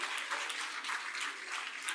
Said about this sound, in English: And can we keep the applause going for our Mrs. Chairman, Mrs. Sucharita Reddy, joining us right here.